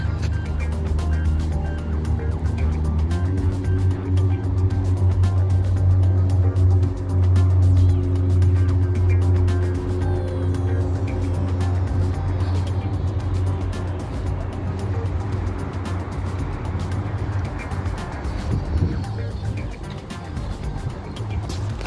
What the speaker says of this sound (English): That little car is following me.